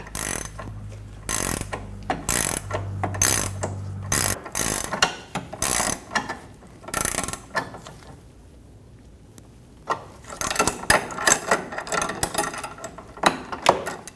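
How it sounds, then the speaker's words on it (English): A hand ratchet snugs down the nut on a front sway bar link of a 2012-2022 Volkswagen Passat while an Allen bit holds the stud, giving repeated close clicking strokes in bursts with short pauses between. "We're going to use a 5mm Allen bit to hold the stud while we snug down the nut."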